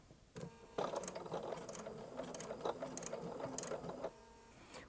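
A sewing machine stitches through thick denim seams in a rapid mechanical chatter of needle and gears, quiet and close, running in uneven bursts with short pauses.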